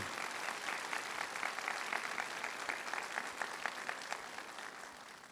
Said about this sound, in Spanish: Quiero un aplauso para el Cabildo